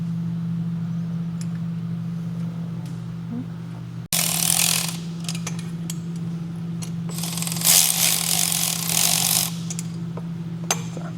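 Full exhaust being bolted onto a CFMOTO Ibex 450 motorcycle, with a ratchet wrench clicking in bursts and metallic tool clinks and taps over a steady low hum, close and without speech.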